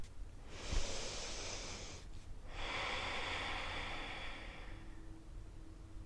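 A deep inhale and a longer exhale during a postpartum yoga flow, close and airy, with a brief pause between the two breaths over a low background hum.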